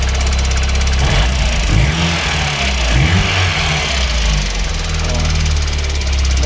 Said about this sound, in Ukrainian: моторчик наш еще холодний, прогревается. Так він працює.